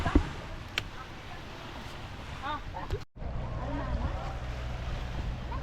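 A Philippine bangka boat's engine drones on open water in the countryside, with wind buffeting the microphone, steady and fairly near, a few brief chirps over the rumble.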